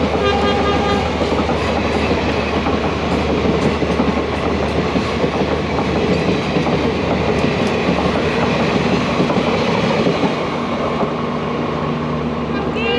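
A train passes on a single-track Indian Railways line near a halted Vistadom tourist train, a loud, close, continuous rumble with rhythmic wheel clatter throughout.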